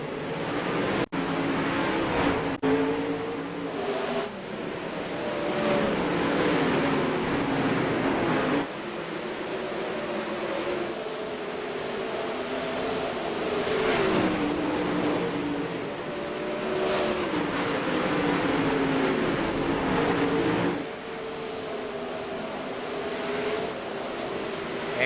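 360 sprint race cars lap USA International Speedway under caution, their engines droning and rising and falling as they pass, loud and continuous throughout.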